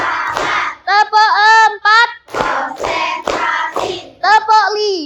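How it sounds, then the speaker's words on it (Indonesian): A class of children claps hands in counted rounds during a morning lesson, the sharp bursts mixed with loud, close chanting voices of the children throughout. "Coba tepuk 1, tepuk 2, tepuk 3,"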